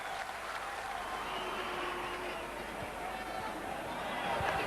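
Home crowd at the 2007 Strongman Super Series Grand Prix at Mohegan Sun roaring in support of a competitor, a sustained loud mass of cheers and shouts that swells near the end, with commentary talk faintly underneath.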